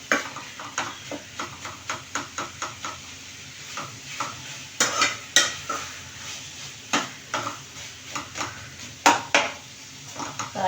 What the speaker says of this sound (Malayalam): ഇവിടെ ഒരു പാൻ വെച്ചിട്ട് ചൂടാകുമ്പോൾ നമുക്ക് ആ ചിക്കൻ ഒന്ന് വറുത്തെടുക്കണം